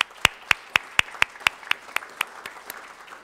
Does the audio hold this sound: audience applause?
yes